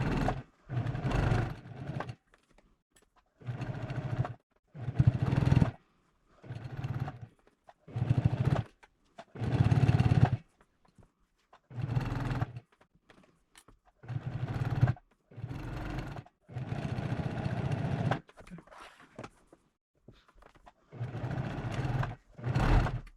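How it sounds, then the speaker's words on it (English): Sewing machine stitching patchwork quilt pieces, about a dozen short whirring runs of stitching separated by quiet pauses, close and clear with no talking. "I'm going to go ahead and stitch these up"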